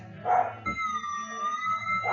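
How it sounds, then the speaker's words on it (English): A single short dog bark at the start, followed by a drawn-out whining, howl-like tone with a high electronic beep running through it. "Sorry about the noise, it's just Nipper the wolf barking"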